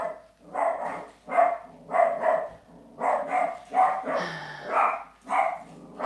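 A terrier barks repeatedly at a FedEx delivery, sharp close yaps in quick bursts of one or two with short pauses between, loud and alone indoors.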